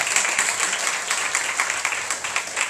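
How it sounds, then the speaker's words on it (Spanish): Church congregation clapping for the Lord at a lively service, a dense, steady patter of many hands filling the room without pause. "Démosle un aplauso al Señor."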